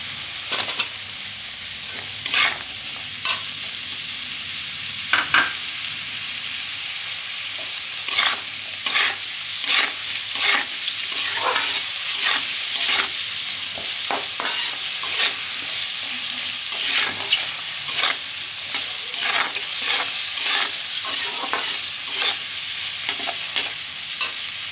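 Capsicum and other vegetables stir-fried for chilli fish: a close, loud sizzle broken by repeated scraping and tossing strokes of a spatula in the pan, with no talk.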